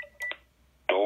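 Aiphone IX-MV7 intercom reception unit giving a door unlock confirmation: a few short electronic beep tones near the start, a quiet pause, then a louder sustained tone to the end, with no talking.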